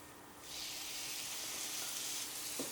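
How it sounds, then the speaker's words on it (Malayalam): Tomato goes into onions frying in a pan, and the sizzle jumps up sharply after half a second, then settles into a steady, close, hissing fry with a faint stir near the end. "നമുക്ക് ഇതിലേക്ക് ഇനി തക്കാളി കൂടെ ആഡ് ചെയ്ത് കൊടുക്കാം"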